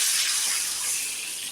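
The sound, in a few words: pouring water into the pan for rava kesari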